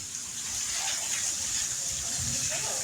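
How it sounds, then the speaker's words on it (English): A waterfall descends into a spring-fed pool at the base of a canyon at Starved Rock, a steady broadband rush of falling water that fills the whole stretch without a break. "This waterfall descends into this pool at the base of a canyon"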